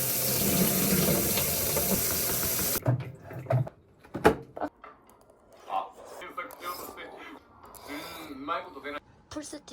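Rice being rinsed under a running tap in a kitchen sink, a broad steady wash of flowing water for the first few seconds, then intermittent splashes, clinks and handling noises with a voice speaking.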